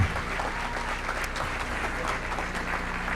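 A full round of audience applause at an education conference, steady, close and busy throughout, with scattered sharper claps standing out.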